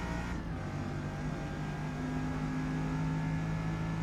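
In Forza Motorsport, a Bugatti Veyron races at Le Mans with a constant, droning engine note at high speed. It sits close and steady with no talking.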